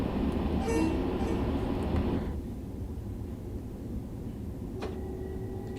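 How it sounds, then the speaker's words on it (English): Simulated train in Train Sim World 2 rumbling past loudly for about two seconds before fading to a steady cab drone, with a short horn-like tonal blast near the end. "Lovely train though."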